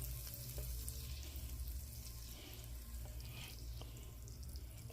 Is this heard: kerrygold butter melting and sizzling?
yes